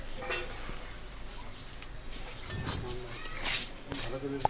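Grated coconut and jaggery are stirred in a pan while making narkel naru, with soft scraping and a few light clinks under someone talking.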